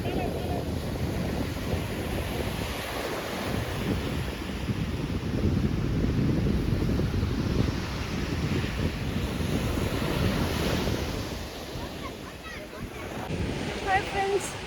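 Sea waves wash continuously onto a beach, with a broad roar of surf mixed with heavy wind buffeting the microphone, loud and steady throughout.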